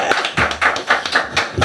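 Clapping from a church audience welcoming a guest pastor, a run of sharp, separate claps in an uneven rhythm, close and fairly loud, with no voices over them.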